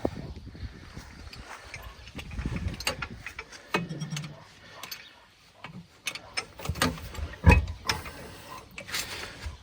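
Mechanical clanks and ratcheting knocks from a jack lifting a LOVOL 1054 tractor, irregular and close by, with metallic clicks and scrapes in bursts.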